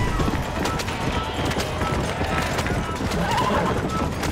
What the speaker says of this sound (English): Let's rest up our horse some.